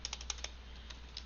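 A few light, sparse keystrokes tap on a computer keyboard, quiet and close, over a low steady electrical hum with no talking.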